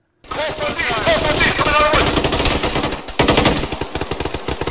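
Machine-gun and rifle fire crackle almost continuously during an enemy squad assault in the military shooter Arma 3, dense rapid bursts up close with some voices mixed in and a few sharper shots near the end.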